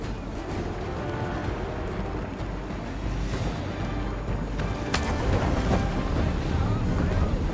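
A sailing ship at sea in the video game Assassin's Creed 3, steady rushing wind and water wash with creaking sails and hull, continuous and fairly full, with voices talking over it.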